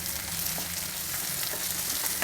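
Sliced capsicum fries with mixed vegetables in a pan, giving a continuous loud close sizzle with light stirring scrapes throughout and no voices.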